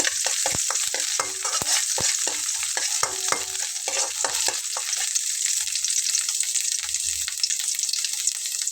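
Chopped garlic and ginger frying in a small amount of oil in a pan, giving a steady close sizzle with scattered stirring clicks and scrapes early on, then settling into a smooth continuous hiss.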